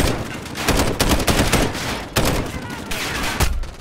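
Gunfire in Call of Duty Modern Warfare, rapid bursts of loud close shots and fusillades in uneven clusters, with brief gaps between volleys.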